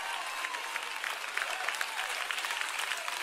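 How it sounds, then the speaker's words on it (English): A church congregation breaks into sustained applause, a dense, even clatter of many hands clapping together, heard at moderate distance with no clear talk over it. "Especially those who are clapping their hands."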